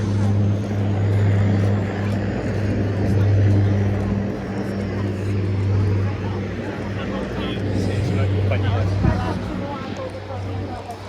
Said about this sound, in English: And look, there's a seaplane taking off.